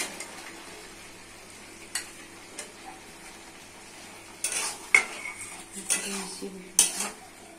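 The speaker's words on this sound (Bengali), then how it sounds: "টমেটো সেদ্ধ হয়ে গেছে, দিচ্ছি বেগুন আলু" Eggplant and potato pieces are added to a pan of tomato curry. There is a soft background simmer, sparse clicks, then clattering spoon-and-pan knocks and louder sizzling bursts in the second half.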